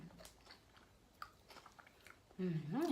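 Someone bites and chews food dipped in chili sauce close to the mic, with soft crunchy munching, and a voice speaks briefly at the end.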